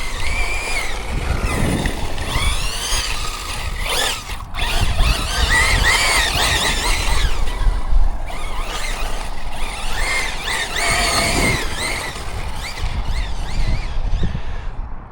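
A Team Corally Shiroi 6S RC truck driving, its electric motor whining and rising and falling in pitch as it accelerates, with wheels scrabbling over the ground, loud and close throughout.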